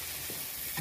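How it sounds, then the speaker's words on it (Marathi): Masala frying in oil while being stirred with a spoon: a steady, close sizzle and hiss with soft scraping of the stirring, continuous through the short moment. "आता मस्त असं हलवून घ्यायचंय, तेल सुटेपर्यंत ना परतून घ्यायचा हा मसाला."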